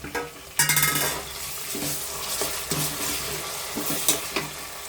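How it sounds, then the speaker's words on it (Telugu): Onion, tomato and chillies fry in a pan with turmeric, ginger paste and salt, a steady sizzle broken by repeated scraping stirs and a few utensil clinks against the pan. "కొంచెం లైట్గా పసుపు అల్లం పేస్ట్ సాల్ట్ వేసుకుని ఫ్రై చేసుకుందాం"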